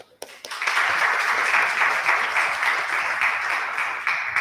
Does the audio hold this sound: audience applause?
yes